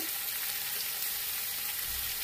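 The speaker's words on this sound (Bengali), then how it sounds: "বেগুনগুলো নরম হয়ে এসছে, ভাজা ভাজা হয়ে গেছে। আমি একটু উল্টে পাল্টে দিলাম।" Softened eggplant pieces fry in oil in a pan, giving a steady, close, bright sizzle with a soft thump as they are turned over; no speech.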